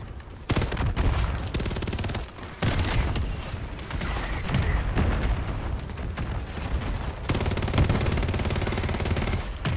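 Dense Call of Duty gunfire fills the scene, automatic bursts and heavy shots rolling almost continuously with booming impacts, loud and close, with brief gaps between volleys.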